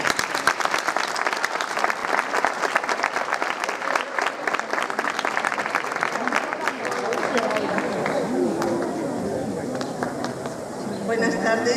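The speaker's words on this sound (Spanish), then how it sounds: "Un aplauso, por favor." Audience applause at a graduation ceremony, a dense sustained burst of many hands clapping that fills the room, thinning slightly toward the end amid crowd murmur.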